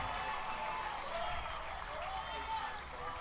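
An Auburn football stadium crowd after a false start penalty, a broad wash of applause and cheering heard at a distance, steady and fairly faint, with a voice talking over it.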